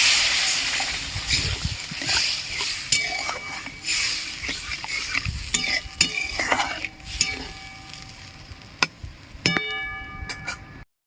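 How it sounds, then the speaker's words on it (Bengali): Water poured into spice paste sizzling in oil for Barishal-style tel koi fish curry, a burst of hissing and bubbling followed by stirring scrapes and clinks of a spoon against the pan, close up. "মশলা থেকে তেল ছেড়ে দিয়েছে এবার আমি জল দিয়ে দেবো"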